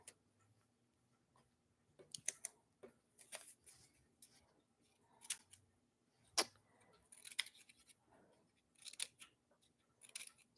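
Scissors snip paper letters apart in quiet, close bursts of crisp cuts separated by short pauses, with faint handling rustle between them.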